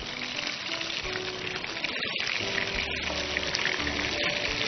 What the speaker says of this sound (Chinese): 然后我们就直接烤馒头片